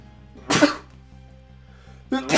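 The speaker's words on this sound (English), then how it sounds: "you always sneeze while I'm in the middle of talking" A sneeze bursts out over a steady game soundtrack, followed by a second sneeze starting near the end, both loud and close.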